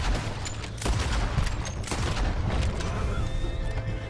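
Horse neighing loudly in Red Dead Redemption 2, a long whinny close by amid gunfire and hoof clatter from a gang shootout.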